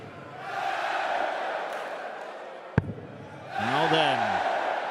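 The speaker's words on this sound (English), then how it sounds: "the Prague crowd are getting excited" Crowd at the Czech Darts Open in Prague roaring throughout, with a sharp thud partway and a louder swell of cheering and chanting near the end.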